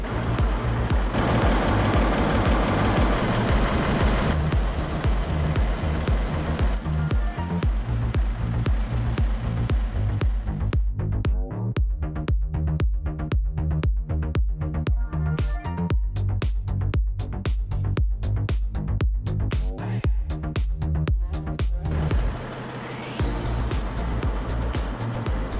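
Running ship engine heard from on top in an engine room, a loud continuous diesel drone with a steady low throb and rapid repetitive mechanical knocking, no talk.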